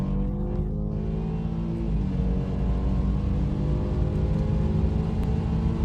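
BMW F30 328i with Stage 1 tuning pulling hard under full throttle, a loud, sustained engine roar with a smooth rising pitch and a brief dip as the gear changes.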